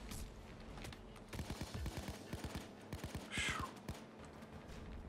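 In a Payday heist, rapid gunfire bursts crackle in quick succession through the middle of the clip, fairly loud over a low background of game noise.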